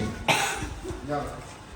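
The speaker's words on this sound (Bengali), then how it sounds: "শুধু একটু কাশি।" A child gives a single sharp cough near the microphone, followed by a brief quieter throat sound, with adult speech around it.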